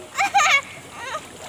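Splashing water from people bathing in a river, with two short bursts early on and a softer splash about a second later.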